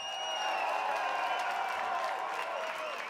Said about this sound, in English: let's hear a massive cheer for both of these warriors.